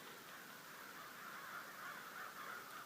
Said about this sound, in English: That was the crow.